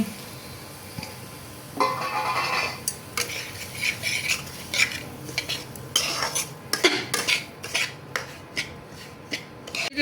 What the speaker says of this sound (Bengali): সুজিরে হালকা করে বাজমু